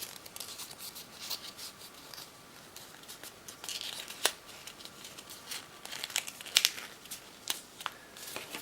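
Paper being folded and tucked into a square origami envelope, heard as soft crinkles and crisp creasing snaps at close range, with sharper rustles around the middle and near the end.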